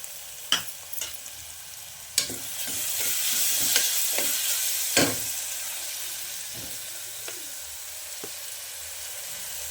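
Onions browning in a pan, a continuous hiss of frying broken by sharp scraping and tapping strokes from a stirring spoon, close and clear with nobody speaking.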